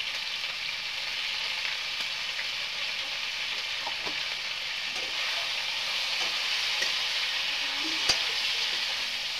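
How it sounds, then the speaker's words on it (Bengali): Chicken pieces frying in hot oil in a pan for a thin curry with potatoes, giving a steady, even sizzle throughout with a few faint clinks and no talking. "আগে প্রথমে মাংসটা আমি ভাজে নেব"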